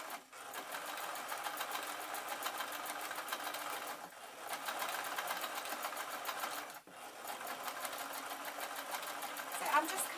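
An old, fast sewing machine runs steadily while stitching microfiber cloth, a quick even chatter of needle strokes heard close up, briefly pausing twice between runs.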